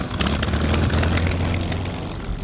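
A P-40N-1 Kittyhawk fighter with its propeller engine running, a low droning rumble with a rough throbbing pulse, steady and moderately close, with no voices over it.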